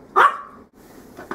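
A pet dog gives a single sharp close bark, followed by a couple of fainter short yips or whimpers.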